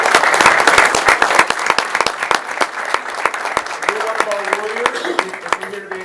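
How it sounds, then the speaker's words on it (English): A big round of applause from the crowd at a school board of education meeting welcoming staff forward, loud and dense at first and thinning into scattered sharp claps, with a voice speaking over the later part. "let's welcome them up with a big round of applause as well"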